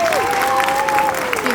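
Audience applause for an accompanist at a fourth grade Utah history performance, a short burst of clapping and crowd noise with a sustained tone and a voice running over it.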